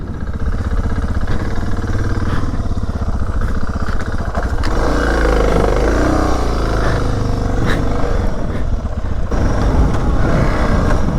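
A DR motorcycle rides in second gear along a rural cut-through toward a main road, its engine a loud, close, rough drone that holds steady and swells into heavier revving midway, with wind noise and no talk.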